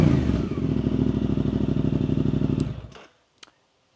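Suzuki GSX-8R motorcycle with stock exhaust revving at idle, a loud, close, pulsing engine drone that cuts off abruptly near the end, followed by a few faint clicks and near silence.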